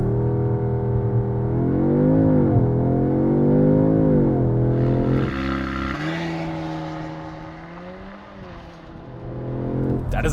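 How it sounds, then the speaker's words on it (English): A 2022 Audi S3 quattro with a 2-liter turbo four launches hard under launch control, its engine droning loud inside the cabin as it climbs through the revs, dips briefly at a shift, then pulls up again. "(2022) Audi S3 Quattro Technik with launch control."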